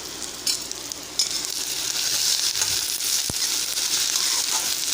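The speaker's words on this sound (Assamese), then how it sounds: "আমি এইখিনি অলপ ভাজ খোৱালে ৰম।" Sliced onions with a spoonful of salt sizzling steadily in a hot pan for fish do pyaza, a dense, even frying hiss with faint stirring scrapes.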